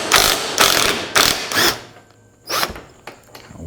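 A ratchet wrench turns a 14mm bolt on the cage of a 2021 Honda Talon 1000R, with several bursts of rapid close clicking separated by brief pauses, then one shorter final burst.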